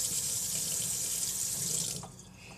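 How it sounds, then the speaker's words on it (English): Tap water running hard over a bubble wand being rinsed, a bright close hiss and splash that fades and stops near the end. "you're going to want to rinse off your wand"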